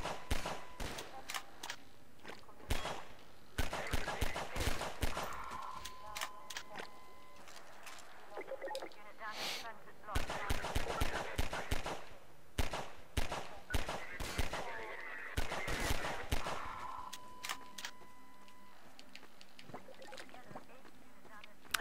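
Rapid bursts of gunfire from the Half-Life video game, sharp cracking volleys repeating in clusters throughout, loud and close, with a voice speaking at times.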